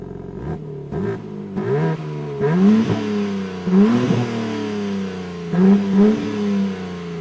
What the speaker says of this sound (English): Let's have ourselves a listen to the exhaust note in regular mode.